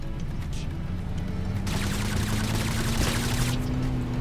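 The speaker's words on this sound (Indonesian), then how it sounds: "Ada yang nembakin." Rapid gunfire rattles in the battle royale video game Totally Accurate Battlegrounds, breaking out as a dense burst of shots midway over a steady engine-like drone.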